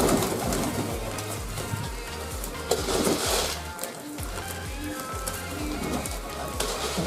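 Pigeons coo steadily in low, rolling repeated calls close by while being fed by hand, overlapping one another with faint clatter and rustling around them.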